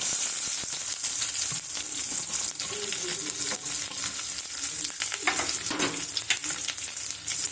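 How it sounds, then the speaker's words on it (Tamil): Sliced onions and curry leaves fry in oil with mustard seeds in a pan, a steady loud sizzle running throughout while a spoon scrapes and stirs them in short irregular strokes. "வெங்காயம் நல்லா பொன்னிறமா வர வரைக்கும் வதக்கி விட்டுக்கலாம்."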